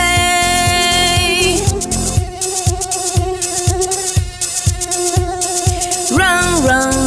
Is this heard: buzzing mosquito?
yes